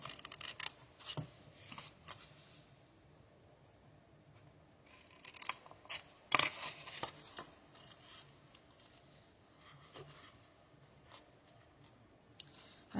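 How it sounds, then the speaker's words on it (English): Scissors snipping sharp diagonal cuts into a paper box: sparse, crisp close clicks and snips scattered across a quiet background, with one louder cut midway. "we are going to take a really sharp diagonal cut up to the score line on each side"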